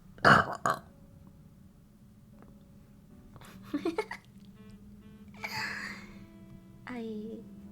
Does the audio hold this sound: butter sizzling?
no